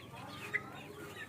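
Chickens and chicks clucking faintly at a distance, a low murmur of soft clucks with one brief sharper call rising out of it, under steady background noise.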